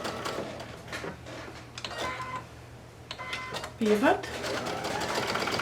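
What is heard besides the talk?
sewing machine stitching coaster seam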